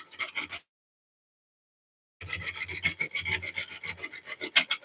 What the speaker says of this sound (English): of wood being trimmed on a lathe